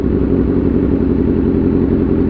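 A motorcycle engine labors and bogs slightly as the clutch is eased out in first gear to its friction point, a steady, close, dense rumble with no pauses.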